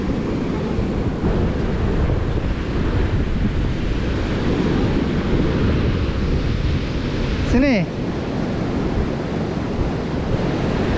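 Large ocean waves break on a coral-rock beach at Lhoknga, Aceh, a loud continuous roar and wash blended with wind buffeting the microphone. A brief voice and a short squeak are heard near the end.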